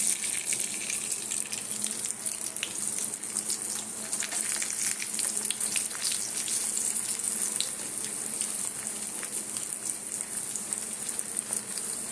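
Mung dal puri dough fries in butter over low heat, making a continuous close hiss with fine crackles and pops that stays steady for several seconds, and nobody speaks.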